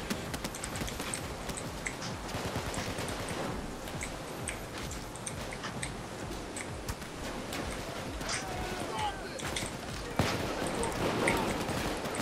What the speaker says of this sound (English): Because I'm getting shot here.